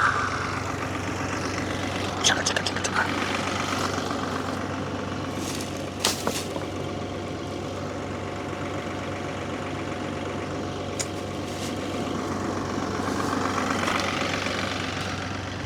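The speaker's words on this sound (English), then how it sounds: "All right, excavator's warmed up." Warmed-up excavator engine idling at a demolition site, a steady low diesel rumble throughout with a few sharp metallic knocks and clanks over it.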